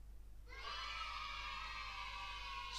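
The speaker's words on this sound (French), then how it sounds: "on va en prendre un des acclamations d'enfants" Built-in iMovie sound effect of children cheering, a crowd of young voices shouting and screaming together that starts abruptly after a short quiet lead-in and holds steady and faint to the end.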